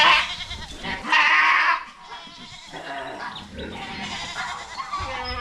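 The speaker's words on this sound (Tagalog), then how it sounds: "Paalam sa ating mga kambing." Goats bleat repeatedly on a farm in the Philippines, several overlapping calls near and far, with some livestock background noise throughout.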